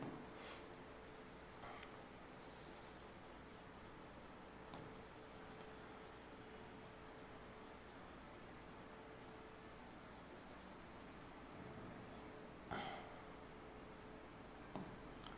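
Eraser rubbing across a classroom writing board, a steady dry scrubbing that runs almost continuously at moderate level, with a few brief knocks near the end.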